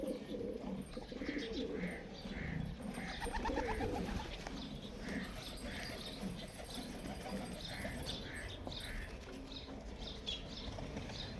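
Domestic pigeons coo in repeated soft, rhythmic phrases at close range, with other birds chirping faintly around them and faint voices in the background.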